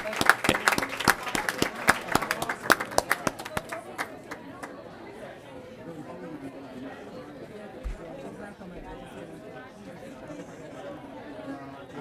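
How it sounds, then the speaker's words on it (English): Applause from the audience at a school district board meeting for the parents: a burst of dense, loud clapping that fades after a few seconds into general crowd chatter. "if we can give a round of applause to all the parents"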